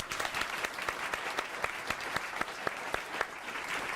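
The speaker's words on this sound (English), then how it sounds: "Please join me in a massive round of applause" Audience applause welcoming a guest speaker at a lecture event, steady clapping from a crowd throughout with sharp individual claps standing out, fairly quiet and distant-sounding.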